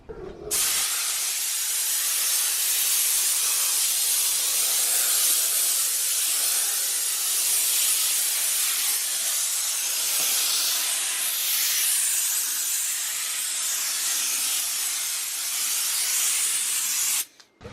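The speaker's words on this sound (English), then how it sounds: "give this a quick little wipe down, spray it down with air" A long, loud, continuous hiss of compressed air blowing down a Honda CRX engine bay before painting, close by, steady for over fifteen seconds before cutting off abruptly.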